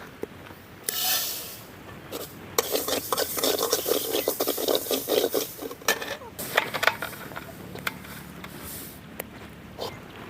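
Dry millet grains are roasted in a pan and stirred with a spoon, making an uneven, close scraping and rustling with gritty bursts and occasional clinks.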